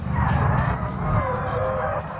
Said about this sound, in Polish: Tak, to teraz próbowałem driftować.